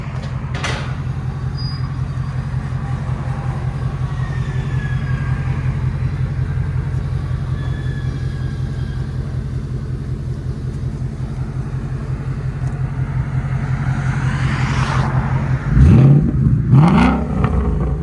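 A 2016 Ford Mustang GT 5.0L V8 with Flowmaster X-Pipe and valved exhaust, valves open, idles with a deep, steady burble throughout, swelling into a short, sharper rev burst near the end.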